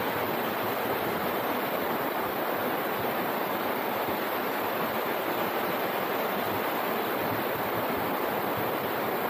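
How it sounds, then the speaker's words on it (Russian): Rushing water outdoors in nature, a dense, constant roar of flowing water that stays steady and fairly loud throughout, with no voices. "Вот это вот шум. Шум воды."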